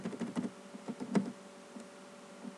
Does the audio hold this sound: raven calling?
no